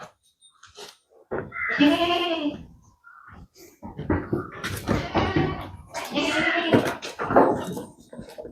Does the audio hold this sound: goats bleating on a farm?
yes